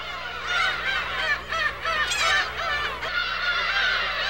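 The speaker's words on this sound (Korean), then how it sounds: "번식 중인 가마우지와 갈매기를 비롯해서 수천 마리나 되는 새들이 모여 있었다." Thousands of breeding cormorants and gulls crowd a colony, their loud overlapping honking and squawking calls forming a dense, continuous chorus close by with no voices.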